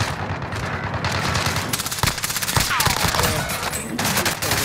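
Rapid bursts of automatic gunfire and scattered shots fill a Call of Duty: Modern Warfare firefight, loud and continuous, with a few sharp close cracks and faint voices in the mix.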